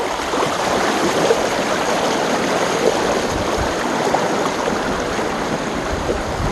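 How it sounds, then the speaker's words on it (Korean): Steady broadband rushing of a stream flowing continuously, loud and close, with no voices over it. "와 물소리 끝내줍니다"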